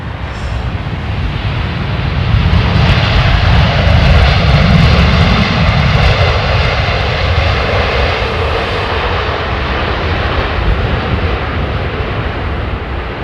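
Jet engines of an Air India airliner in its celebratory livery at London Heathrow roar loudly and steadily throughout, a deep continuous rumble swelling slightly midway and holding close.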